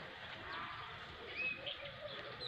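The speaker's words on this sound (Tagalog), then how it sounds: "Yun, may ibon." Faint, thin bird chirps and short calls drift through quiet outdoor background noise near date palm trees, distant and intermittent.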